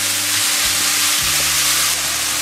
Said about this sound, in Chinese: 一定要把它炒透了